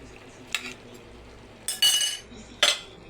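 A spoon scrapes and clinks against a cooking pot while potatoes and soy sauce are stirred, three short bursts of metallic stirring over a quiet background hum.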